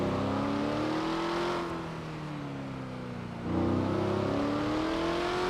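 Car engine noise in the video game FiveM, a GTA V roleplay server, with steady tonal revving that rises and falls, dipping briefly mid-clip before swelling again, heard alone and fairly loud.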